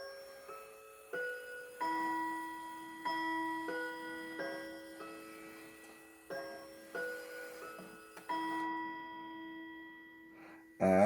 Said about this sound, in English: This is the Westminster song.